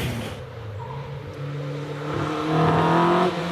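A Westfield SE race car with an engine over 2 liters accelerates up a hillclimb course, its engine note rising steadily in pitch and growing louder toward the end.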